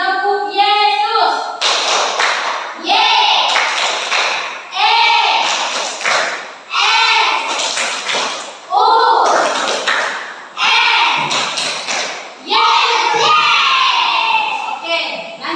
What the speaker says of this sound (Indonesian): Tepuk semangat. Tepuk Yesus.